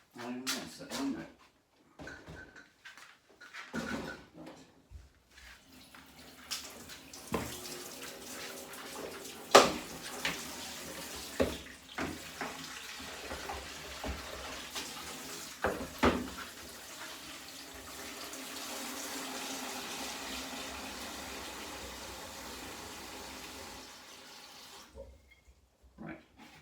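A kitchen tap runs into a dog's water bowl, a steady splashing stream that builds over several seconds, with clinks, footsteps and a person's voice around it.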